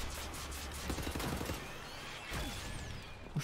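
Gunfire in the video game Wolfenstein, in an asylum level: a rapid burst of automatic shots followed by a few scattered reports and crashes, moderately loud.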